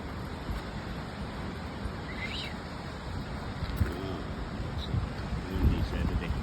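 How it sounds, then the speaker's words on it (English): Strong wind buffets the microphone outdoors on a blustery day, a constant rushing roar with gusts, while a person talks and calls out over it. "So windy. Look at it."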